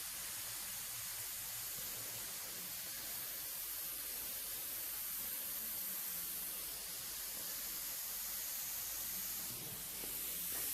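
An airbrush sprays paint while shading a realistic skull, giving a steady, close, continuous hiss that runs unbroken throughout with no talking.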